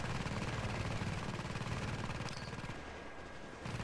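A turret in The Division beta, a video game, fires rapid, continuous bursts of automatic gunfire, with fast, even shots close and loud for several seconds before easing off slightly.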